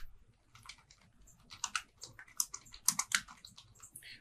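Computer keyboard typing while renaming a project in Maya 2020, a quick run of close, light key clicks in uneven bursts with no talking.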